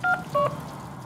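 Phone dialing in a Deadpool video game gives two short electronic keypad tones in quick succession over a faint background hum.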